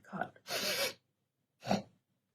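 A voice imitates a small child's snuffle from a cot, with two short breathy sniffs, the middle one a longer, noisier snort, close and fairly soft.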